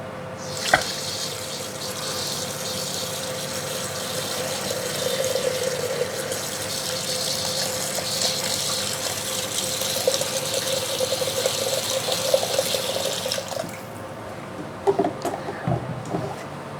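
Tap water runs steadily into a messy, oily blender bowl to cover the blade for cleaning, a continuous splashing fill that stops near the end, followed by a few clinks and knocks.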